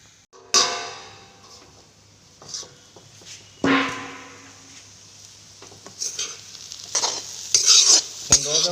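Banana shoots fry in a pan with a soft sizzle beneath loud scraping stirs, clanks of a metal spatula against the pan and scattered clicks, close up and with no talking.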